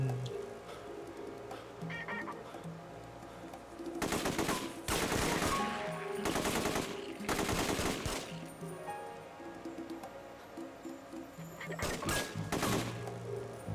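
Gunfire in the video game The Getaway, with several loud bursts of rapid shots in clusters, separated by quieter stretches of game ambience and background sound.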